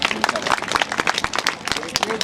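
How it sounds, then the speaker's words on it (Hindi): An audience claps for a first-place prize winner at a gathering in Jamalapani, Sausar Range, South Chhindwara, with a quick, irregular patter of hands running under a voice on a loudspeaker. "तालियां बजती रहे"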